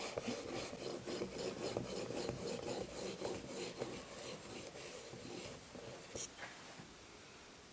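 A knife edge drawn across a 6000 grit sharpening stone in light finishing passes, a faint repeated rasping scrape in an even back-and-forth rhythm.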